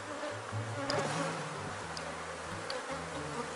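A honeybee swarm buzzes inside a hive box, a dense, steady hum with shifting low drones from many wings, close by and fairly quiet with no talk.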